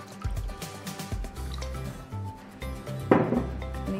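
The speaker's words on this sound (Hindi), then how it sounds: "अब हम इसमें पानी डालेंगे और छाछ बनाएंगे" Water is poured into whisked curd to make buttermilk, producing close, wet splashing and dripping with soft sloshes and a brief louder gush near the end.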